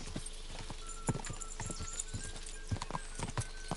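Hooves clip-clop at a gallop in the medieval game Kingdom Come Deliverance 2, with a horse whinnying briefly; rhythmic, fairly close beats over a quiet game ambience.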